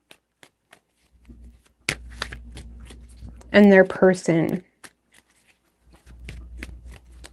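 Tarot cards being shuffled by hand, papery riffling and soft flicks in a few bursts, close and fairly quiet, with a voice speaking between and after the shuffles.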